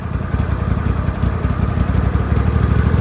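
John Deere engine idling low and steady on a cold winter day, a close, continuous rumble with a fast even pulse throughout, no talking.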